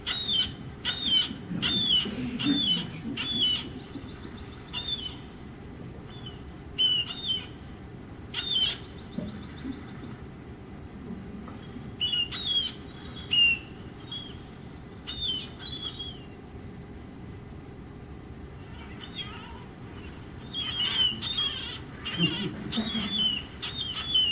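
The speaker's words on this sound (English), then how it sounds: "You'll hear wing beats and a call that sounds like a duck playing kazoo." Recorded marbled murrelet calls, high nasal kazoo-like cries in rapid bursts mixed with lower fluttering wing beats, repeated over a steady low rumble, varying between near and distant.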